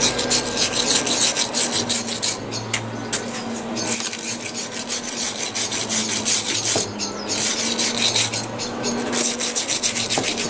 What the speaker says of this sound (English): we're just literally going to clean it up as best we can, which is literally just take all the old grease out of it.